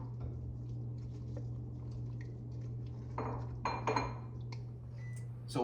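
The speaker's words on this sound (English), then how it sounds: "Add our potatoes and our mushrooms back in there and give it a good stir." A spoon stirs venison bourguignon with potatoes and mushrooms in a pot, giving soft scraping and a few clinks against the pot over a steady low hum, no talking.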